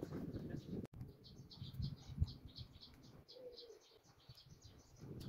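Small bird chirps in a quick repeated series outdoors near an old church, steady high twitters running through the whole stretch over a low background rumble.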